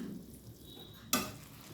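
Schezwan fried noodles with spring onion are tossed and stirred in a pan, a soft sizzling scrape followed by a sharp clatter of the utensil against the pan near the end.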